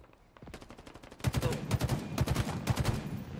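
Battle rifle bursts in the video game Halo Infinite, a run of rapid gunshots that starts lighter and turns loud and punchy, with quick repeated volleys close up.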